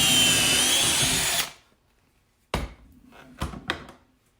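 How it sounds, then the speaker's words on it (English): A power drill bores pocket holes into wooden tray boards, whining loud and close for about a second and a half before it stops. A few sharp knocks and short bursts follow. "We're just going to put 2 pocket holes into our outside boards."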